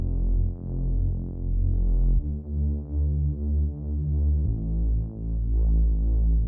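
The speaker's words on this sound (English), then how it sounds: "we have a bass that comes in and it sounds like this" A thick, detuned saw synth bass with distortion and filtering plays a sustained, throbbing line alone, its tone sweeping and shifting as the notes change across a few bars of a track.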